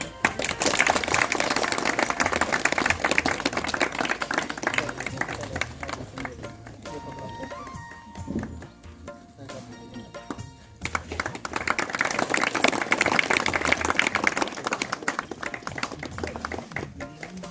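Guests at an engagement ceremony clap in a dense, busy burst, ease into a quieter stretch of scattered taps and sounds, then swell back into steady applause.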